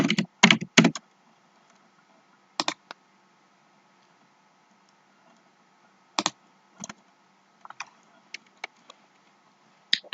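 Computer keyboard keys are typed in short clustered bursts separated by silent pauses, crisp and close, with scattered single keystrokes toward the end.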